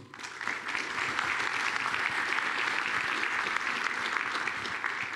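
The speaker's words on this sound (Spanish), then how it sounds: "Otro aplauso, por favor." An audience at a talk on the evolution of content providers in the Internet core claps in sustained, dense applause that swells quickly and holds at a steady level for several seconds.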